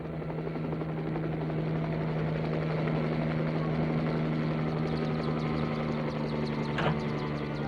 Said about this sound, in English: It took the helicopter 12 hours.